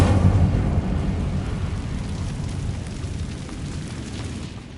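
The Incendio fire spell cast in Hogwarts Legacy, a loud booming whoosh of flame that bursts up at once and then slowly dies away into a low roaring rumble.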